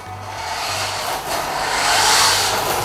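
A cheap WPL RC toy pickup truck with rear-wheel drive, driving around nearby, giving a continuous whirring motor and rolling rub that swells and dips, fairly loud and steady, with no voices.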